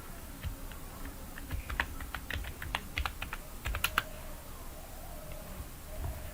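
Rapid keystrokes patter on a computer keyboard in irregular bursts, close and fairly quiet, with brief pauses between runs of clicks.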